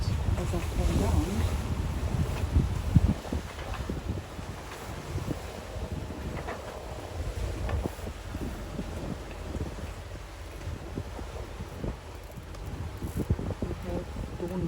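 A sailboat motor sailing on the Indian Ocean after the wind dropped, with a steady low engine rumble, water wash and gusty wind noise against the microphone, continuous throughout.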